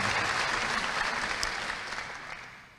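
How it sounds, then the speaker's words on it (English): Conference audience applauding to welcome distinguished guests, steady crowd clapping from a large room that gradually tapers off, no talking over it. "may I kindly ask you to join me in welcoming our distinguished guests with a round of applause"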